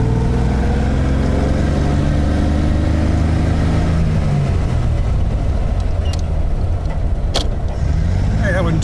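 1935 Plymouth car driving with double-clutch gear shifts, a loud, close engine hum that climbs and drops in pitch as gears change, with a voice talking over it.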